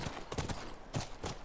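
Horse hooves clip-clopping in The Last of Us video game, a faint, quick rhythm of a few hoof beats at a walking pace.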